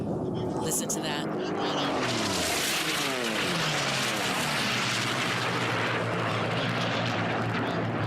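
Unlimited class racing airplanes roar past at the Reno Air Races, the engine drone swelling and sweeping downward as they pass, loud over a constant background wash of crowd and wind.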